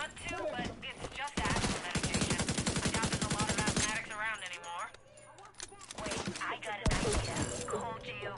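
Rapid bursts of gunfire in the shooter game The Division 2, with a sustained automatic volley and sharper single shots, loud and close, interleaved with a voice talking over the action.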